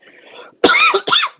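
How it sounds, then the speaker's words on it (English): A short, sharp cough in two quick bursts, close and loud, following a soft faint murmur. "I'm getting all coughed up."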